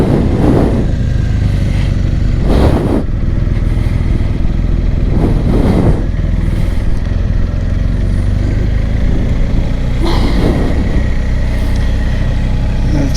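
A BMW R1250 GSA motorcycle fitted with Dunlop Trailmax Mission III tires pulls out of a parking lot, its engine rumbling loudly and close, with several rising revs and wind rush between them, no talk.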